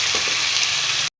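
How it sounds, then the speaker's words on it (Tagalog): Bottle gourd (opo) and sardines sautéing in a pan, giving a loud, steady sizzle that cuts off abruptly, with no voices. "Ayan, gisa na natin siya sabay ng sardinas"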